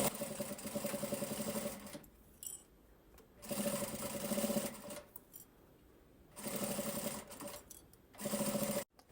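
Sewing machine stitching fabric with plastic and mesh while making a zippered pouch, in three steady bursts of rapid mechanical whirring separated by quiet pauses, close and alone.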